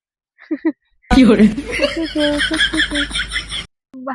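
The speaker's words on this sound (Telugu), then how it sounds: "కిక్కి క్యూ కిక్కి క్యూ అంటారు పిట్టలు" Chickens cluck in a short, busy burst of clucks and squawks, close and loud, with brief speech before and after.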